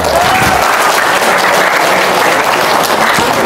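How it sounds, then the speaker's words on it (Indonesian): Loud, dense audience applause fills the whole stretch, a continuous wash of clapping from a large crowd at close range with no talking over it. "Tepuk tangan dong."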